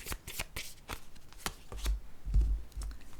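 Tarot cards being shuffled by hand, a run of crisp riffling flutters and soft slaps repeating close up with brief pauses between bursts, no voices.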